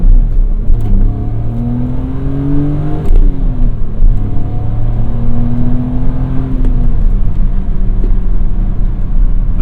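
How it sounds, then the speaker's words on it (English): BMW M Coupe with the S52 inline-six revving hard through a first-gear pull from inside the cabin, rising engine tones climbing in repeated sweeps with brief dips at shifts, loud and close throughout. "let's get a first gear pull in here"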